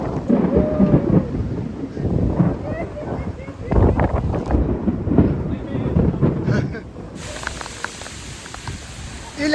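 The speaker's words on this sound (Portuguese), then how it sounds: "Uma trovoada pesada, está tudo a fugir." Heavy thunderstorm on an island, with booming thunder rolls and steady rain close by, wind buffeting the microphone and people talking throughout.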